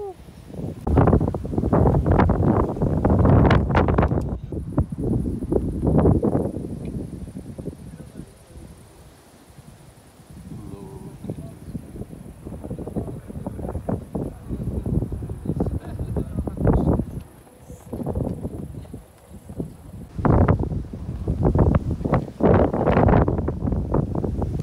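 Strong wind buffets the microphone outdoors on a cold day in Lviv, Ukraine, with loud rumbling gusts that swell and ease throughout while people talk over it.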